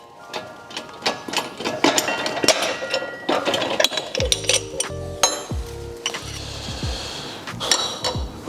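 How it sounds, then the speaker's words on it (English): Rotor bearing being pressed out of a Mazda RX-8 rotary engine rotor in a workshop, with a series of sharp metallic clinks and knocks, then several short ringing tones and a final clatter, all close and loud. "get ready to catch the bearing as it comes through."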